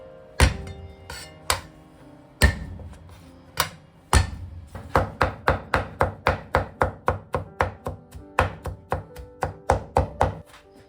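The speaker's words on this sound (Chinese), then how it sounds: "再来几瓣大蒜，然后再切成蒜末。" A knife chops peeled garlic cloves into fine mince on a cutting board, starting with a few spaced, sharp chops before settling into a fast, steady run of close, crisp knocks.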